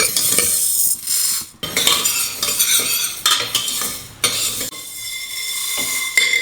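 Masoor and moong dal are dry-roasted in a pan, stirred with a metal spoon that scrapes and clinks against the pan in repeated bursts, loud and close, with brief pauses between strokes.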